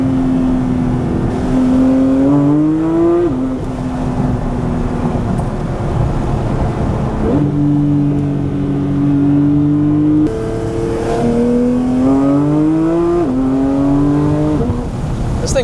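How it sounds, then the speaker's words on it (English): A Porsche supercar engine revs hard on winding backroads, loud and close, climbing through gears in rising sweeps with brief shift drops, the roar steady for the whole stretch. "I didn't think Porsche sound good like that."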